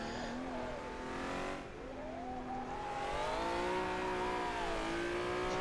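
Honda NSX-R race car in the rFactor racing sim at Suzuka, a steady engine drone with rising and falling gear pitches and a brief dip in revs, heard close and continuous without talk.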